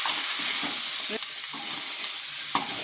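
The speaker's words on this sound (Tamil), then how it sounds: "வெங்காயமும் பீட்ரூட்டும் ஒன்றா போட்டு கலரிக்கலாம். ஒரு 5 நிமிஷம் வதக்கணுங்க." Grated beetroot and onion with dried red chillies fry in a pan, a constant close hiss with occasional spatula scrapes and taps as the mixture is stirred, with no voices.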